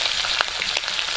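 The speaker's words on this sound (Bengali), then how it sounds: "পেঁয়াজ ভাজা হয়ে গেছে" Onions with cumin fry in a pan for a meat dish, giving a close, steady hiss of sizzling oil with a couple of soft stirring pops.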